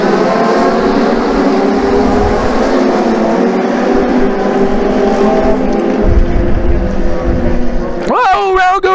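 US Legend race cars roar at New Hampshire Motor Speedway as a pack of engines drones loudly and steadily under a race commentator's talk, ending with a sharp rising whine.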